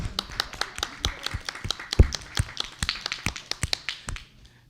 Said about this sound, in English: give a big round of applause to them